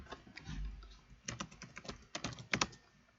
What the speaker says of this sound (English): So I just type in my password,